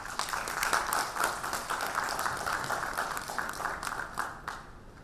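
An audience at the Pharma Ratan 2018 awards event applauds to welcome the chief guest, a steady wash of many hands clapping that fades slightly toward the end.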